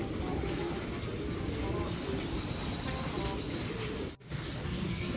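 Pigeons coo and flutter as feed is given in a loft, a dense steady flock murmur with soft calls throughout, briefly dipping near the end.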